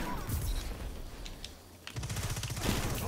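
Rapid bursts of gunfire in a first-person shooter video game crackle in quick volleys, pausing briefly before another barrage starts, with no talk over it.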